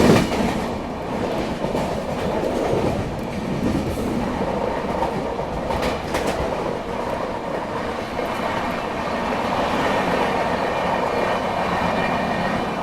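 Nagpur Pune Humsafar Express train passing a crossing, a steady loud rush of wagons and rolling wheels with faint clickety-clack, continuous and near for the whole span.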